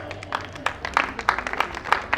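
Steady crowd clapping at a festive engagement celebration on a Raas Leela night, a run of fairly even, moderately loud claps over background hubbub.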